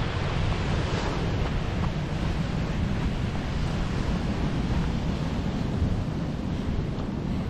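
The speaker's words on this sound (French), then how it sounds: "Ici, on a de beaux rouleaux." Ocean surf rolls onto a Lanzarote shore in a continuous broadband roar, loud and close, mixed with steady wind buffeting the microphone and no voices.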